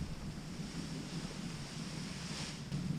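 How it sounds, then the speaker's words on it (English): Steady wind at a paramotor launch site buffets the microphone in a continuous, fairly loud rushing roar, with a slight swell near the end and no voices. "the wind was a little funkier than I expected."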